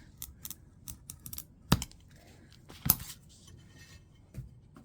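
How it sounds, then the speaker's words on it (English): A glass scoring tool marking the inside of textured glass, giving scattered faint scratches and ticks with two sharper clicks, close by and with no talking. "now I'm taking my scoring tool, and I'm marking the inside"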